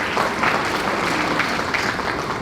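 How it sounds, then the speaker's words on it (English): Audience at an overdose summit gives a brief, steady burst of applause for a recognized attendee, dense clapping filling the room without pause. "We'll pass the applause on to him when I see him the next time."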